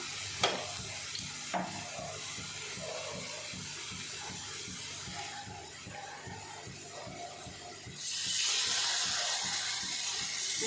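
Fish fries in peanut oil on a stove with a soft, bubbling sizzle and occasional light clicks, then the hiss jumps louder and brighter near the end as the frying intensifies.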